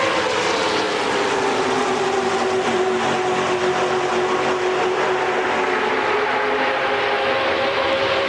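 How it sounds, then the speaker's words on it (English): NASCAR stock car engines run wide open around the track at the 1998 Pepsi 400 restrictor plate race, a sustained distant roar with a slowly shifting pitch and no voices. "You gotta listen to the motors. So you could hear them purring down through there"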